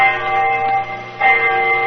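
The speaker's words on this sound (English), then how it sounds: "I remember the hour was striking" A clock strikes the hour with sustained, bell-like tones, one ringing stroke fading before a second loud stroke, heard clearly without any speech.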